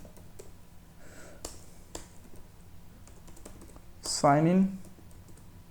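Light computer keyboard typing, scattered soft clicks and short bursts, close and quiet under a voice speaking Hindi.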